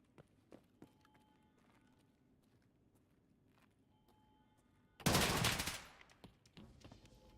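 Gunfire in Escape From Tarkov: a sudden loud burst of rapid automatic shots that cuts through quiet footsteps and faint ambience, then fades over about a second.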